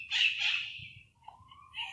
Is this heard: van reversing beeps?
no